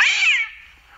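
A single loud, close meow, bright and drawn out, fading quickly into near silence; it may be a person voicing a cat through a filter.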